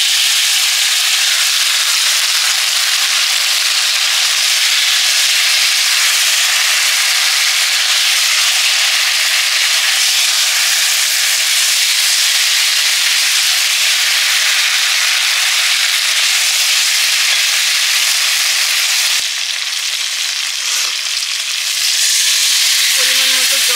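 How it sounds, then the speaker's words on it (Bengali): Spiced raw hilsa fish frying in a hot pan, a loud, steady broadband sizzle that runs unbroken and close throughout, with a brief dip and a few clatters near the end. "এবারে মশলা মাখানো ইলিশ মাছটা দিয়ে দিলাম।"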